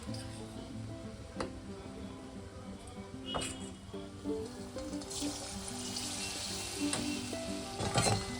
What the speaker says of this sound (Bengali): আগে এই কটা ভাজা হোক